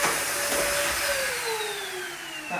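A Hoover vacuum cleaner runs with a loud, steady suction roar inside underground siege tunnels beneath Dover Castle, its whine pitch slowly sliding downward and then briefly surging at the end.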